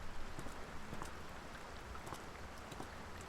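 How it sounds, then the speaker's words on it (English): Steady, soft video game rain from Layers of Fear patters continuously with scattered droplet taps, faint and even throughout. "The sound of rain, that is."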